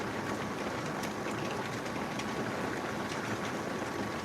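Really heavy rain pouring down in a dense, steady roar, loud and close with no break and no talk.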